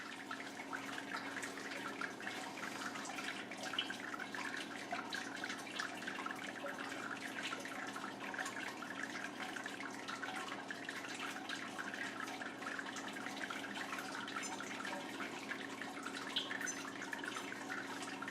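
Sparge water trickling and splashing into a vessel while brewing beer, a soft, steady, continuous liquid trickle with fine droplet texture, fairly faint and with no voices.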